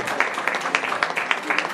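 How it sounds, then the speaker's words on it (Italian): Crowd at a CSMI assembly in Fano claps together, a brisk, even patter of many hands with rhythmic accents, fairly close and steady for the whole stretch. "Volete farmi un applauso,"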